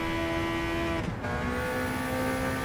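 A car engine revving very high in a racing video game, a steady loud whine with sustained tonal harmonics, briefly dipping as the gear shifts, then continuing at high pitch.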